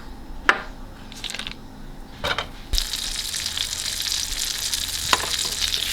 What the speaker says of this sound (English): time to add a little bit of butter